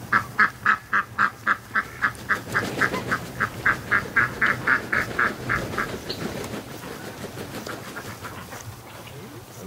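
A rapid series of honking calls from waterfowl, loud and steady at first, then fading into softer, busier chatter and background noise.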